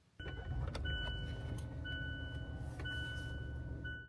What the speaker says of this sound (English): Let me turn on this car.